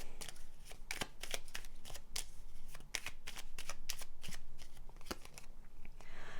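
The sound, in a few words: tarot cards being shuffled and drawn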